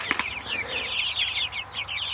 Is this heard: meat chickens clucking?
yes